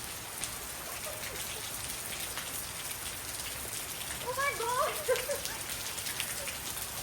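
Monsoon-season rain falls steadily in a continuous soft hiss of drops on surfaces, with faint chirping or voice-like tones briefly rising over it midway.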